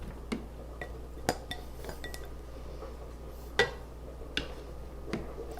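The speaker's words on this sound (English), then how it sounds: "it's so soft it easily breaks even with my little whatchamacallit spatula thingy here" Soft cooked cauliflower broken up with a small spatula in a pan, giving a few sparse light clinks and scrapes of utensil against cookware over a quiet room hum.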